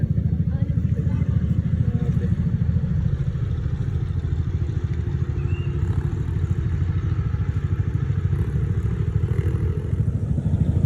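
Tricycle engine labouring up the Zigzag Road in Atimonan, Quezon, a steady close mid-pitched motorcycle-type drone with rattling clatter, continuous and loud throughout with no talk.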